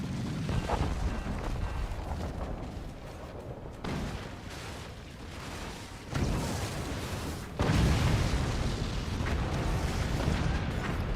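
Howitzer shells explode continuously in a real-time strategy video game, a dense, rumbling barrage of deep booms and blasts that swells louder in surges without a break.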